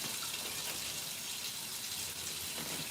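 A kitchen tap runs water into a pot for cooking spaghetti, giving a steady, even rushing hiss that lasts throughout with no voices.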